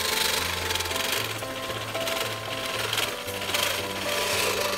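A manual reel push mower cuts grass in a backyard homestead, its spinning blades giving a steady, close whirring and clicking that rises and falls in repeated passes, with no talking.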